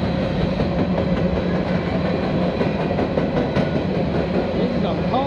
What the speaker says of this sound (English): This is a coal train, I think.